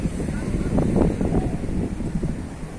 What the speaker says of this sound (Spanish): Fuerte viento, como ustedes pueden ver las ramas de los árboles, cómo se mueve